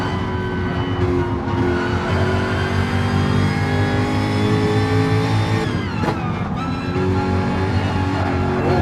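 Lamborghini Trofeo Motorsport race car engine at Brands Hatch GP in the racing game AGT Online, a loud, steady high-revving drone with a brief gear-change dip midway.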